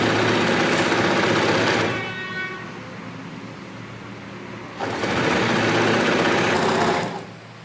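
A sewing machine runs in two loud, fast bursts while backstitching a ruffle sleeve, with a quieter pause between them; each burst is a steady, rapid mechanical hum, close up.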